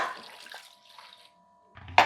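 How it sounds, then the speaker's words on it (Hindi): Water poured from a glass into a pressure cooker holding a mutton leg with onions and tomatoes gives a short, sharp splash near the end, after a quieter stretch of faint earlier sound. "इसके अंदर मैं अब 3 गिलास पानी शामिल करूंगा"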